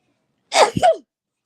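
One sharp, close sneeze, a quick intake bursting into a loud explosive release, heard alone against silence.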